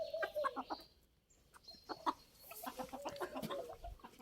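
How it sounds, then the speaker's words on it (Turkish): A rooster clucks in short, repeated bursts nearby, with scattered bird chirps and faint rustling around it. "Beyaz horozum geldi."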